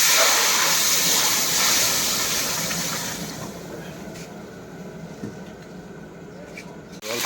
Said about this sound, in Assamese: এতিয়া দালিটো দিওঁ। দালিটো ইয়াত চেম্বাৰ মাৰি দিলোঁ।